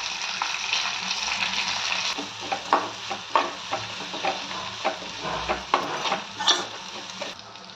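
Grated raw mango frying in a pan, a steady close sizzle broken by repeated scraping stirs that land in an irregular rhythm, with no voices.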